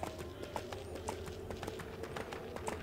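Horse mount in the online game EverQuest II trots along, steady rhythmic clip-clop of hooves repeating at a quick even pace, fairly quiet and close, with no talking over it.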